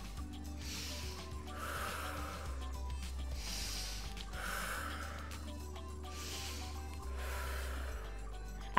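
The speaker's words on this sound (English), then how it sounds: "Use the golden thread breath." A woman doing pregnancy yoga breathes with the golden thread technique. Each slow, audible, breathy exhale is drawn out, and they come in a steady rhythm at close range over a low background hum.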